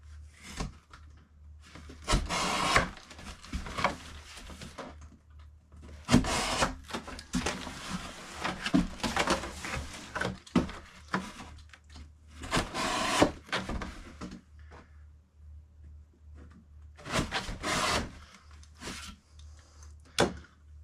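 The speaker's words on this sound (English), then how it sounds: "Now we're just going to slit the corners up." A utility blade slitting the corners of a cardboard shipping box, heard as irregular bursts of close scraping and rasping cuts separated by quiet pauses, with some handling noise and no talk.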